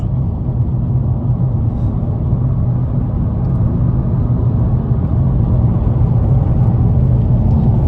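A new Volkswagen Polo 1.0 TSI cruising on a long highway between Antalya and Muğla, heard from inside as a loud, steady low road-and-engine drone with no breaks.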